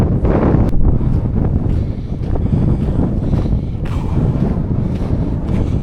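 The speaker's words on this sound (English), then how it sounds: "Windy now" Heavy wind buffeting a microphone, a continuous low rumbling roar with gusty bursts throughout.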